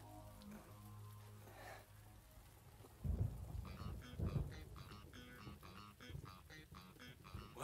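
Anime rain with thunder: a steady hiss of falling rain, with low rolling thunder rumbles swelling partway through, faint and distant.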